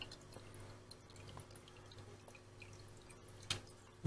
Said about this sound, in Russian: за счет вот этого небольшого, как водопадика сказать, У нас идет, видите, пузырьки